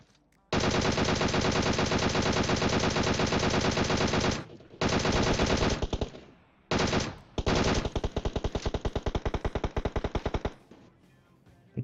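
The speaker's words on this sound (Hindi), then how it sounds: "मेरे कान के बगल से गोली जाती है" Sustained automatic gunfire in PUBG Mobile, long loud rapid bursts in close succession with brief gaps between them, ending in a run of individual shots and a final single crack.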